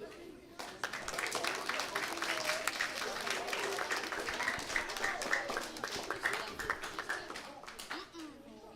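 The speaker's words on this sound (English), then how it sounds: "Leave the applause until after" Scattered clapping from a school assembly audience at a primary school, a quiet but busy patter of hands that continues unevenly for several seconds with faint voices underneath.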